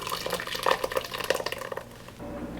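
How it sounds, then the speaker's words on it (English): Pureed tomato soup pours into a bowl through a fine mesh strainer, a close, wet, sloshing stream with irregular splashes that thins to a quieter trickle near the end. "We're going to pour this into a bowl that has a strainer over it."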